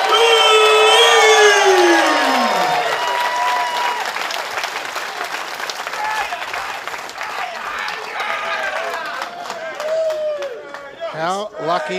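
A wrestling arena crowd at a Perth show claps and cheers loudly and steadily, with whoops and shouts rising over the applause as the noise gradually thins out toward the end.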